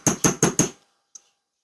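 A hammer taps metal wire four times in quick, even succession while shaping a square jump ring, crisp and close, followed by one faint light tap after a short pause.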